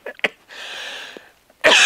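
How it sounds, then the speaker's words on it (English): A single cough from one person, close by, preceded by a short breathy sound and a brief pause. "I'm about to cough."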